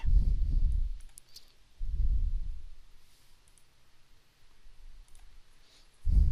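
A computer mouse clicks a few times while editing in Adobe Photoshop, sharp small taps that are faint and close, set between low rumbling background noise.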